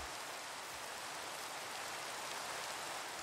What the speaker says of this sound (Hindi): बारिश इतनी आ रही है ना, इसमें बारिश बहुत ज़्यादा आ रही भाई